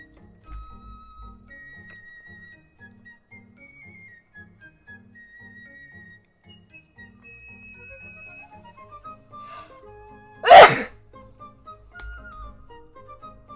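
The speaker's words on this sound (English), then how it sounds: "I didn't expect to sneeze so loud" One loud, abrupt human sneeze bursts out close by near the end, standing well above a quiet, steady melodic background during a drawing session.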